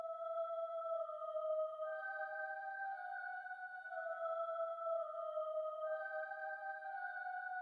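A slow, sustained choir melody of layered tones drenched in heavy reverb, notes blurring into each other and rising in steps, smooth and continuous.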